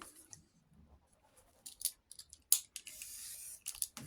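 Scissors cut paper in a few short, soft snips and rustles, close but faint, among quiet handling sounds.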